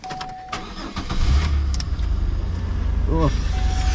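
A 2000 Chevy Impala engine fitted with a new resonator and muffler cranks and starts, then settles into a low, steady idle beneath some background voices and clinks.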